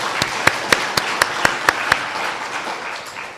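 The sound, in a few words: congregation applause of thanks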